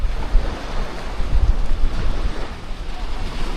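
Ocean surf on a beach in Playa del Carmen with some rocks in the water, heard as a steady, broad wash of rolling waves mixed with wind buffeting the microphone and no voices.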